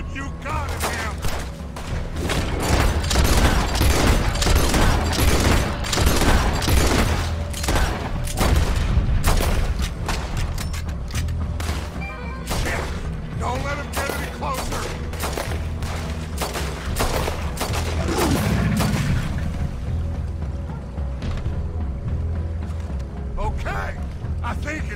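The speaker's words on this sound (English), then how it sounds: "Put every bullet you got in him!" Red Dead Redemption 2 shootout at a trolley station: dense, rapid gunfire bursts crack and boom close by for most of the stretch, then thin out to scattered, fainter shots and rumbling near the end.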